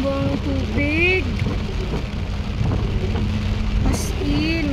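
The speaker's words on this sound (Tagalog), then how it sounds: "Grabe ang ulan." Heavy rain pours steadily on a rainy New Year's Day, a constant loud hiss with someone talking over it.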